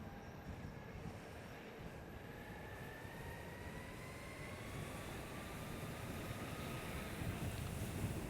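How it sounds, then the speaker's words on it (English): Wind rushes past while someone rides an electric skateboard, a steady broadband roar with a rising motor whine that builds slightly toward the end, and no talking. "It's a bit windy today too."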